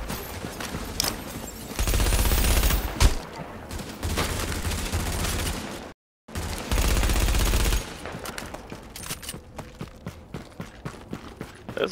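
Gunfire bursts in The Division video game, loud sustained volleys with a brief cut of silence midway, followed by quieter sporadic shots and game sound effects.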